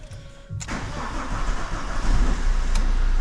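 A van engine turning over and catching at once, then running loudly and steadily up close, during a clutch repair check with no talking.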